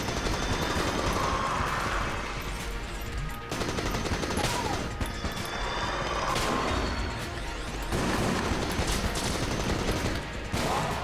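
Dense, continuous enemy gunfire in Enter the Gungeon, bullets sprayed in a wide spread, with layered rapid shots and crashes that keep up loudly for the whole stretch with no talking.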